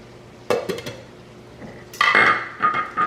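Spoon scraping and clinking against a pot in quick bursts, a few separate stirs followed by a louder, longer stretch of mixing close by.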